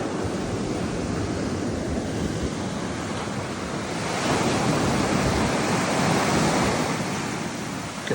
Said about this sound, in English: I'm just about to step onto the beach. Albufeira beach.